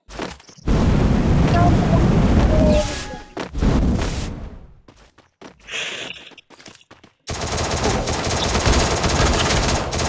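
Video game gunfire from a mobile battle-royale match, loud bursts of rapid shots and sharp cracks in clusters separated by short gaps, then a sustained burst, with a voice talking over parts of it.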